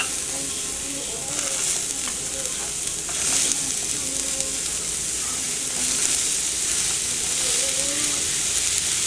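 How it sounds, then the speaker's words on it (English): Vegetables sizzle in a frying pan as the base for shrimp scampi, a steady broadband frying hiss that runs for the whole stretch with faint stirring scrapes and no talk. "So I'm going to go ahead and put my veggies"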